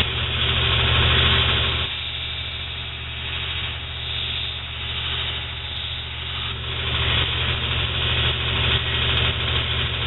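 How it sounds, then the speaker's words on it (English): A belt grinder fitted with a 50 grit belt puts an edge on a small kit knife blade, its motor giving a loud, steady, unbroken drone throughout with no voices. "Got an edge on it with the 50 grit belt."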